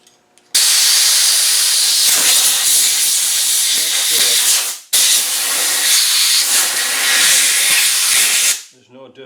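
Compressed air blasts loudly through a cleaned Land Rover 200Tdi rocker shaft in a workshop, two long hissing bursts close to the mic separated by a brief pause, with faint handling noise at the end.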